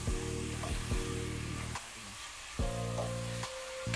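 Beef browning in a pan with salt, sizzling and frying loudly and steadily up close, with brief dips where the heat or stirring shifts and no one talking.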